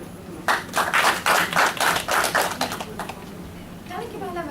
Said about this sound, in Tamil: அவருக்கு கண்டிப்பாக நம்ம எல்லாரும் வந்து ஒரு கைத்தட்டல் கொடுக்கணும்